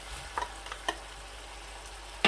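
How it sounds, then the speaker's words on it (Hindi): Tomatoes go into keema mince frying in a pan, a steady close sizzle broken by a few light clinks and stirring scrapes, with a louder clatter at the end. "अभी मैं टमाटर ऐड करूँगा बीच में।"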